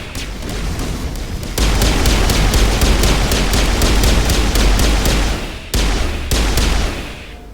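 Bomb detonations in Mass Effect Legendary Edition: a loud, dense barrage of booming blasts with rapid repeated cracks, sustained for several seconds, briefly cutting out and resuming before fading.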